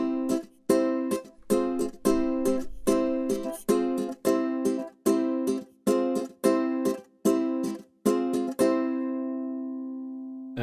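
8Dio sampled ukulele played with the bare thumb: a same-note sequence of about a dozen clear, evenly spaced plucked notes with warm sustain, and the final note rings out into a long decay.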